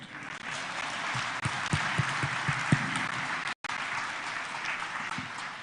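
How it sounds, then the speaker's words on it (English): Audience applause for the President at the Katiba Day commemoration at KICC, a dense, sustained wash of clapping from a large hall crowd, steady throughout with one brief dropout near the end. "I want to hear a round of applause for the President."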